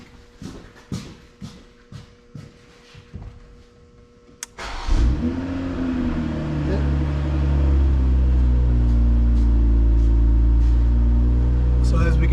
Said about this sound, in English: We're gonna start the vehicle.